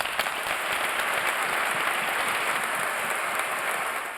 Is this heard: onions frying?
no